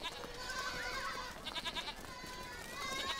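Sheep and goats bleat in northern India as they are brought in from the hillsides, several wavering calls overlapping at moderate distance over a faint outdoor background.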